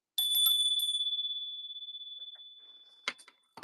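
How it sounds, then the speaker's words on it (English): A small hand bell rung to clear the energy gives one bright, clean strike that rings out and slowly decays over about three seconds, followed by a couple of softer jingling taps. "going to ring the bell to clear the energy"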